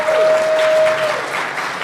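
A hall audience at a security conference applauds steadily and loudly for the incoming speakers, a dense continuous clapping wash with no voices over it.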